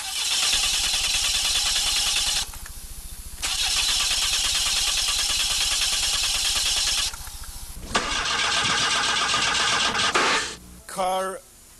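A Saab car engine runs loud and close in long steady stretches broken by sudden cuts and restarts, ending in a few sputtering pulses before falling quiet.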